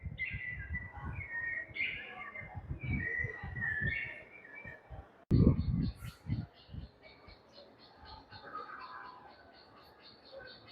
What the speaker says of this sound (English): I don't see any birds, but boy, I sure hear them. I'm pretty sure it's piped in.